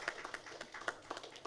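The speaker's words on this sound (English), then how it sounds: "So I would request a round of applause for all the developers from South" Scattered hand claps from a small conference audience at a real estate awards event in South India, a thin, uneven patter of individual claps at moderate distance, short and fading quickly.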